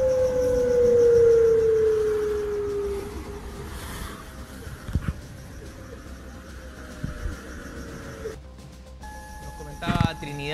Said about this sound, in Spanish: Escuchemos un poquito el accionar de las sirenas en la ciudad de Arica.